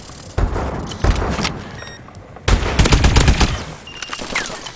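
The AE4 Widowmaker energy weapon in a shooter video game fires in several loud, close bursts separated by short pauses.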